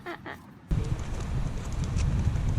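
Horses on a long road ride in Ireland, hooves clip-clopping in a steady rhythm on the road surface after a brief quiet moment, loud and close with some wind noise.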